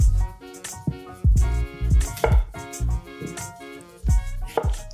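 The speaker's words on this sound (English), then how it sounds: "I think quartering them for a potato this size is probably a good idea." A knife quartering potatoes on a cutting board, preparing them for parboiling before oven cooking with salt cod: a run of close, sharp chopping knocks in an irregular rhythm, with no talk.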